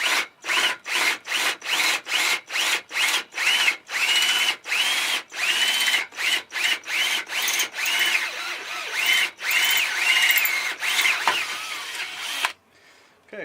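A power drill bores through wood while building a bunk bed, running in loud repeated bursts of grinding and rubbing with short gaps between them, then stopping abruptly near the end.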